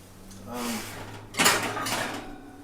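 A tray of baked keto dessert is pulled out of the oven: soft rustling movement, then one sharp metallic clank of the tray, followed by lighter handling sounds at close range.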